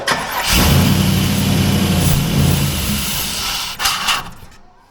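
A 1991 Chevy G20 van with a swapped LS engine cranks and catches, then runs loud and rough for a few seconds with a steady low drone before a brief rev and cutting off.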